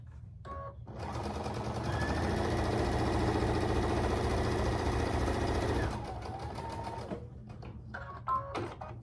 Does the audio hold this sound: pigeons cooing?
no